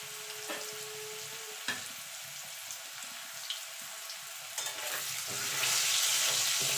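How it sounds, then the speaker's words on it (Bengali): Potatoes frying in hot oil with a little salt and turmeric, a steady close crackling sizzle with a few sharp pops and spatula knocks, growing louder toward the end. "আলুগুলোকে প্রথমে লাল লাল করে ভেজে নেব।"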